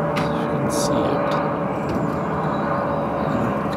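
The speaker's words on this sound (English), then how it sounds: "Planes are going here and there." A plane passes overhead in an outdoor sky view over Staines in south England, heard as a steady broadband roar with a brief rise in hiss, fairly loud and continuous throughout.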